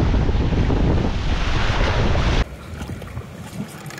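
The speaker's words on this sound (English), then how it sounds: "It's gotten much windier here on the point" Loud wind roars against the microphone over crashing surf on a beach point at Fort De Soto, Florida, then abruptly drops to quieter, gusty wind and wave wash.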